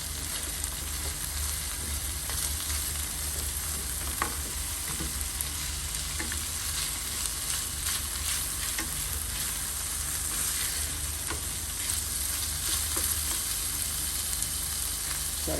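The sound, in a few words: codfish frying with peppers, onions and garlic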